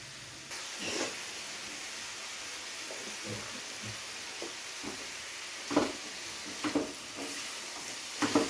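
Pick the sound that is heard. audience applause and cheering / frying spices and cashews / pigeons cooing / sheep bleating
frying spices and cashews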